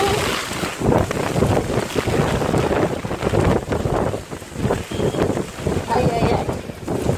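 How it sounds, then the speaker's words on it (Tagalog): Strong typhoon wind during a signal 8 storm in Hong Kong roars and buffets the microphone in continuous heavy gusts, with a voice heard faintly amid the rush. "lakas na ng hangin"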